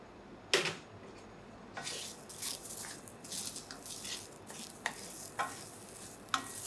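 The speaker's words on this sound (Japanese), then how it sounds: "これもちょっとさーっと炒めていただいて" Couscous and beans being stir-fried in a pan for a risotto-style dish, with a soft low sizzle under scattered spatula scrapes and stirring clicks, no one talking.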